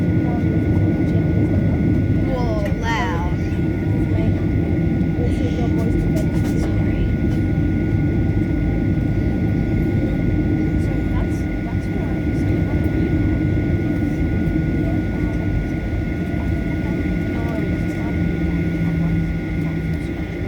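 Virgin Australia airliner taking off from Hobart airport, Tasmania, heard from inside the cabin as a steady, loud engine roar that holds throughout, with brief higher whines early on.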